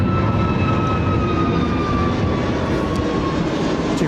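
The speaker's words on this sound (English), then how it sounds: "This KC-46 taxiing now." A KC-46 tanker aircraft taxiing at Sydney Airport, heard as a loud, steady jet engine roar with a high whine running over it. The sound holds constant, without any talk.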